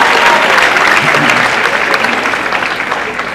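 A school audience at a closing-day ceremony claps loudly for a trophy presentation, a thick wash of applause that stays strong before slowly tapering off near the end.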